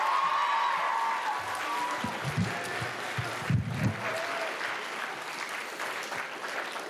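A school audience at a writers' week event gives another round of applause, a soft, diffuse patter of clapping heard at low volume with faint low murmurs mixed in.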